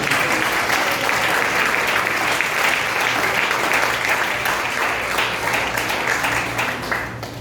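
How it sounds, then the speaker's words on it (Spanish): A church congregation claps together in loud, sustained applause that fills the room, dense and steady before tapering off at the end. "Dale un fuerte aplauso"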